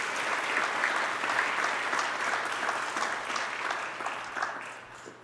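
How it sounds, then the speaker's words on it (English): Audience at a Black History Month event giving a warm round of applause, a steady, even patter of many hands that holds for several seconds before easing off. "Let's give Sarah a big, warm round of applause."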